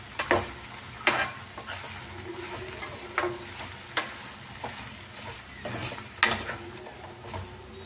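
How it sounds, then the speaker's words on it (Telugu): Okra fry being stirred in a pan, with repeated scrapes and clinks of a spoon against the pan every second or so over a low, steady sizzle, close and clear with no talking. "ఇప్పుడు ఒకసారి కలుపుకుందాం బాగా."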